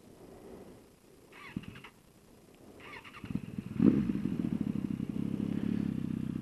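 A 2006 Suzuki Katana 750 fitted with a new Delkevic exhaust cranks over, then catches and settles into a steady, close, throaty idle rumble, with no talking.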